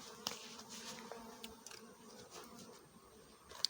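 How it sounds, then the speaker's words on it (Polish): Bees buzz steadily at a small beehive outdoors, a faint continuous drone with occasional closer passes and soft knocks. "po prawej stronie mam ulik, który sobie brzęczy"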